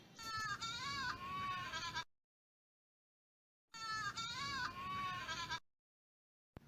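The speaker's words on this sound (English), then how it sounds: "Goat bleat." A goat bleats in quick wavering cries, two clustered bursts of loud, nasal calls separated by a stretch of silence.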